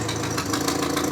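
A Renault 6 engine with a side exit exhaust idles steadily and close by, a continuous low rumble with a slightly uneven, knocking pulse and no voices over it.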